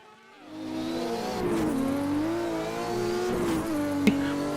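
A Porsche 935 race car on an onboard lap at the Norisring, its engine droning loud and close and climbing in pitch under acceleration, with a brief gear-shift dip and a sharp click near the end.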